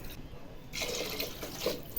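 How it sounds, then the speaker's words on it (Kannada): Water being poured into a cooking pot for a one-pot rice dish, a short splashing pour that starts after a quiet moment and runs steadily to the end, close and moderately loud. "ಇವಾಗ ನೀರು ಹಾಕ್ತಾಯಿದ್ದೀವಿ."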